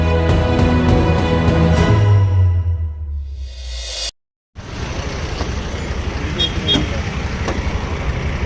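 A VSS bus speeds along a road by the Thoothukudi farmers' market, its loud engine roar passing close before a sudden dropout, then traffic noise and a horn continue afterward.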